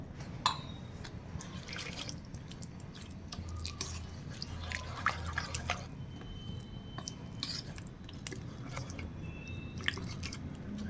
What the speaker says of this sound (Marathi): आणखी थोडं पाणी टाकूयात